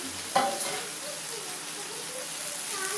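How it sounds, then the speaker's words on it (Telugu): Moong dal and tamarind leaves fry in a pan with a steady, close crackling sizzle and a short stir or clatter early on, with no talk over it. "ఏం చేయాలంటే దీన్ని బాగా వేపుకోవాలి"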